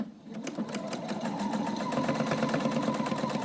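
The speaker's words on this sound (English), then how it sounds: "try and sew through the elastic as well as the layers of material" A sewing machine stitching through elastic and several layers of face-covering fabric, running with a fast, even, rhythmic whir that stays close and continuous throughout.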